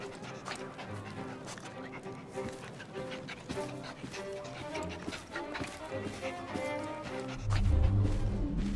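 A dog whimpers and yips in a rough London street setting in Assassin's Creed Syndicate, small whines scattered among clopping hooves and background game ambience, with a voice speaking at times.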